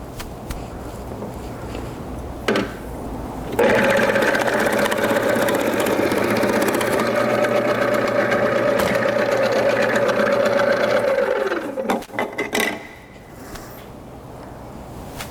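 A Robot Coupe vegetable prep machine slices cucumbers thinly, its motor starting with a loud steady whir that holds for about eight seconds before spinning down, with a few clatters of handling before and after.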